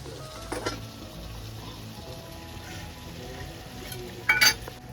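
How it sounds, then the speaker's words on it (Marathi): Prawns cooking in a pan with a Koli-style masala, a quiet steady sizzle and bubbling under occasional metallic clinks of a utensil, with a sharper clatter near the end. "माझे कोलबे अजून शिजले नाही. शिजतंय."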